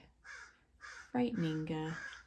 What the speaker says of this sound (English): the way those crows look, I mean, they're terrifying